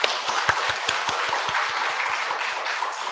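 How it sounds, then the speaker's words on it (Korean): A church congregation applauds to welcome a newcomer during a Sunday service, with many hands clapping in a dense, steady patter and a few louder claps standing out, heard alone without talk. "우리 환영의 박수"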